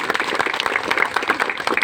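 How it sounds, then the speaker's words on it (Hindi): A village free-coaching gathering breaks into hearty applause for a child, a brisk, dense clapping from a group that stays loud and steady throughout. "एक बार जोरदार ताली उस बच्चे की"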